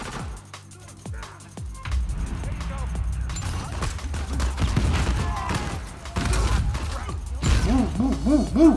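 Gunfire in Uncharted 4 multiplayer: a few sharp shots at the start, then dense, continuous firing and crashing impacts under a noisy game soundscape, with a voice speaking over it near the end.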